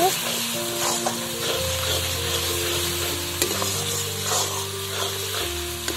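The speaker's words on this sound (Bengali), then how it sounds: "আমি এর মধ্যে দিয়ে দেব সামান্য একটু চিনি, দিয়ে আবারও নাড়াচাড়া করব।" Veto greens with a little sugar are stirred in a hot oiled pan, a close steady sizzle with scraping stir strokes and low tonal ringing from the pan, no one speaking.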